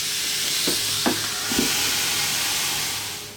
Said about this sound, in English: We're going to take our fish. We're going to drop it on.